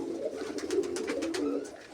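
Pigeons kept by a breeder coo in low, steady rumbling calls throughout, close and continuous with soft overlapping murmurs and no talk.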